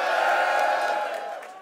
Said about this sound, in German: Deswegen einmal Applaus für Tierstar!